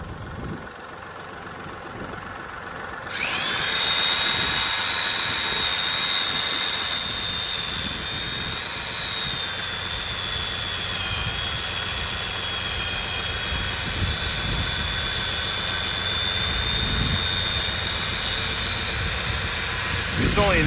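A small chainsaw with a 9.5-inch bar cuts through a tree limb outdoors, starting a few seconds in and then running at a steady, loud, high-pitched whine, with voices faint in the background.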